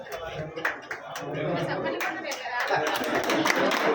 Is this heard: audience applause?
yes